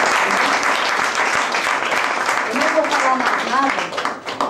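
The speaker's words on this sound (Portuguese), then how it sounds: "Você pode aplaudir ao Senhor nessa noite?" Church congregation applauding during an evening worship service, a dense, loud wash of clapping that holds steady throughout, with voices and shouts mixed in and thinning slightly near the end.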